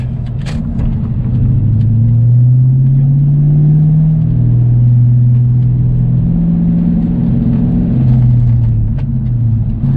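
A manual transmission car pulls away as the clutch is released. A loud, close engine rumble rises and falls with gentle revving, holding steady throughout with no talk.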